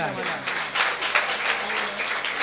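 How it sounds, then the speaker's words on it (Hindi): Applause from a Jain religious gathering in a park hall, a moderate wash of clapping mixed with a speaker's voice over loudspeakers. "तालियां तो बजा दी आपने"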